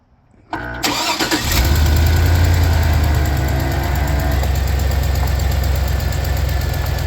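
A 2008 Hummer H2 engine cranks briefly, then catches and settles into a loud, steady, rumbling idle close by.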